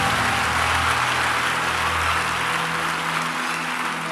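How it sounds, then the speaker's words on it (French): A church congregation at a prophetic service in Côte d'Ivoire applauds and cheers for the Holy Spirit, a dense, loud, steady wash of clapping with a low crowd murmur, sustained throughout. "On acclame pour le Saint-Esprit."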